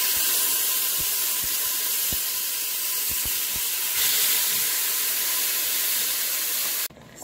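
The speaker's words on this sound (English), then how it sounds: "Now I'll be adding the meat to the pot." Oxtail meat browns in hot oil in a pressure cooker, a loud steady hiss and sizzle with scattered pops and crackles, close up, that cuts off abruptly near the end.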